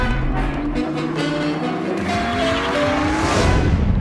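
Cheap sports cars launch into a heads-up race, engines revving loudly up close with a rising pitch as they pull away, tires scrabbling under the roar.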